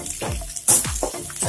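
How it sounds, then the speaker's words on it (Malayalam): Curry leaves splutter in a Sadya masala curry of koorka and thuvara, with close crackling pops, a sudden bright hiss and several quick sweeping scrapes like stirring, all short and loud. "ഞാനിപ്പോ കറിവേപ്പിന്റെ ഇല ചേർത്ത് കൊടുത്തത്. ഒന്ന് ഫ്രൈ ആയിട്ട് വരട്ടെ."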